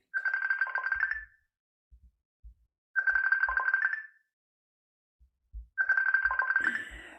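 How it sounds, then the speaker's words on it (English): A phone ringtone for an incoming call sounds during a design course session: three repeated bursts of a bright electronic melody with short pauses between them, clear and fairly close, with a few soft low knocks in the gaps. "someone's trying to phone me"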